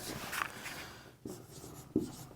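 Marker or chalk writing on a board during a science lesson, with soft scratchy strokes and a few short taps, close and quiet, without speech.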